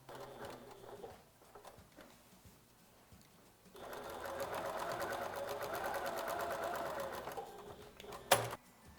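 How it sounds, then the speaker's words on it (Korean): A sewing machine stitches down the folded 1 cm seam allowance of the lining of a fleece drawstring bag, running steadily for about five seconds after a quiet stretch, then stopping with a sharp clack. "안감도 겉감과 마찬가지로 시접을 이렇게 1cm 꺾으셔서 눌러 박아서 고정을 시켜주세요."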